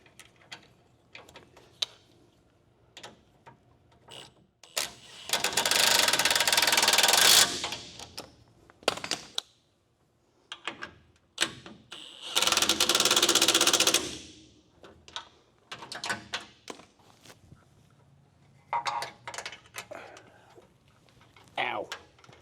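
Ratchet socket wrench turning a bolt on a Camaro engine: bursts of rapid clicking, two long loud runs and several short ones, close by, with someone talking in between.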